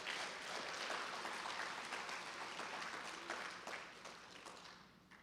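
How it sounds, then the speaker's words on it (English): Audience applause at a neighborhood poster contest award ceremony, a steady wash of many hands clapping that holds fairly even, then slowly thins and fades toward the end. "Give yourselves a round of applause for that."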